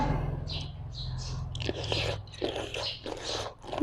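Someone eats plump blanched squid tentacles with a sour, sweet and spicy seafood dipping sauce, with close, wet chewing and soft biting sounds in quick succession.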